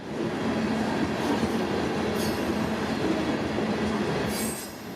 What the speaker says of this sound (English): K317 is a loaded finished phosphate train made up of these custom CSX flip-top hopper cars.